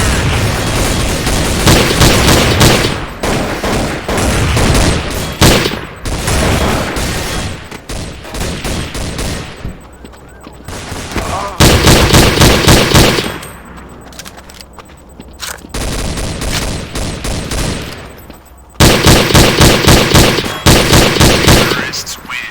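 Counter-Strike: Source on the Assault map, with Beretta 92G Elite II dual pistols and other guns firing in loud, rapid bursts broken by short pauses and scattered game sounds.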